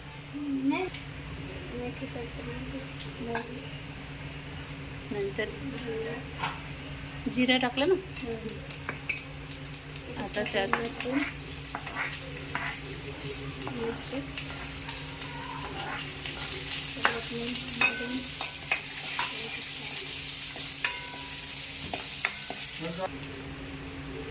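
Fenugreek seeds dropped into hot oil in a pan for kadhi, sizzling under occasional stirring and metal utensil clinks, with people talking throughout.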